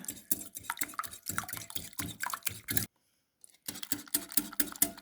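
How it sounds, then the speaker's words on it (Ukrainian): Rapid, rhythmic clinking of a whisk beating eggs in a bowl, with a brief pause before the quick strokes resume. "вінчиком гарно збиваю яйця"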